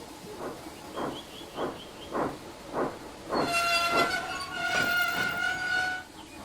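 Rhythmic steam chuffs from a locomotive moving slowly as it buffers up to wagons, followed by a hiss of steam and a sustained whistle-like tone; no talking.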